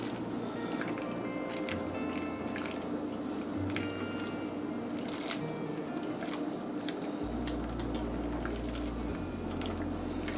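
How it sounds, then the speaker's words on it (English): Spaghetti churned with a fork in a pot of rolling boiling water, a steady bubbling simmer with soft wet stirring sloshes and a low hum underneath, continuous and close throughout. "I'm just stirring and gathering and lifting and pulling the pasta so that it doesn't get cooked into"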